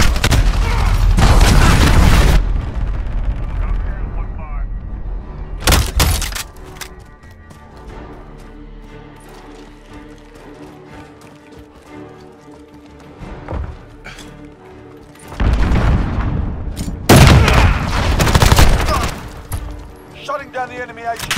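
Cruise missile strike in Call of Duty: Modern Warfare multiplayer: loud booming explosions in heavy bursts at the start, around six seconds and again near the end, with gunfire and battle noise between them and an announcer voice over the action.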